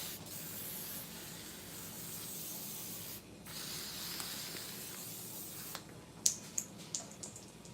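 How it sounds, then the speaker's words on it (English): Hair sheen spray misted from a can onto hair, a long continuous hiss followed by several short sharp spray bursts near the end, close and clear. "This is just some like sheen spray that I'm gonna add to it."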